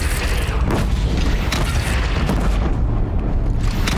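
A bandit clan's cannon fires in Horizon Zero Dawn, with heavy booming blasts that roll out over a dense, continuous rumble of combat and game noise.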